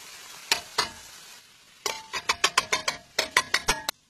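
Defatted meat drops into a pan and gets stirred, giving a couple of isolated clanks, then a quick rhythmic series of sharp metallic scrapes and knocks over a faint sizzle, close up with no talking.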